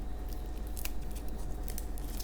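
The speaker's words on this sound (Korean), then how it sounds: "김을 반 자르고 또한번또 잘라요." Scissors snip through a sheet of dried seaweed (gim), a few crisp close cuts over a low steady hum, with no talk.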